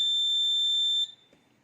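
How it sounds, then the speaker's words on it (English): A steady, high-pitched electronic buzzer on an Arduino Mega smart blind stick, triggered by an IR sensor detecting a nearby object, sounds for about a second, then cuts off, leaving quiet background noise. "If object is near to IR sensor, it will detect and our buzzer will turn on."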